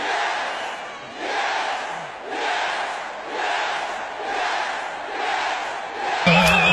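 A large crowd shouts and roars loudly in repeated surging waves, a dense continuous wall of yelling voices with no single clear speaker, ending in a brief sharp noise.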